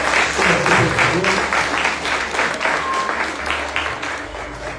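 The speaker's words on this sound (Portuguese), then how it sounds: "vamos dar um aplauso ao Senhor Jesus pela vida desse" A church congregation applauds the Lord for a recently married young couple called forward, a full room of steady clapping that swells early and then slowly eases, with a voice briefly speaking over it.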